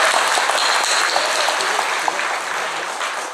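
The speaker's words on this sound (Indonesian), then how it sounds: "Tepuk tangan dulu lah" An audience at a police public-relations gathering with social media activists breaks into steady, dense clapping that stays loud and even for a few seconds before easing slightly, with no talking over it.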